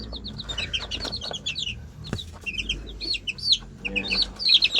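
Young bantam chickens on a farm cluck and peep in quick, irregular bursts close by, chirpy calls overlapping with a faint background murmur.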